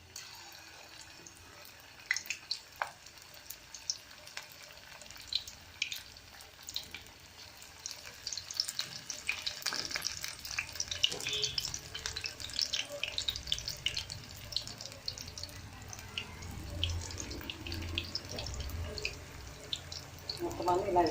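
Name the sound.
chitti bonda batter frying in hot oil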